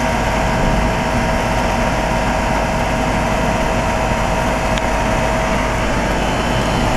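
A 2004 Carrier 3-ton heat pump defrosting outdoors in freezing, windy cold gives off a steady, loud mechanical hum and whoosh, unbroken and even throughout, with no voices.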